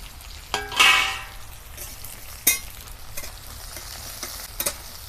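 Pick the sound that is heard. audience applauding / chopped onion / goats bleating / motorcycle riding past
chopped onion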